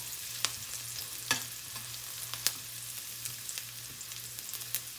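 Onion dropped into hot oil in a preheated pan, giving a faint, steady frying hiss with scattered sharp crackles and pops throughout, heard up close with no voices.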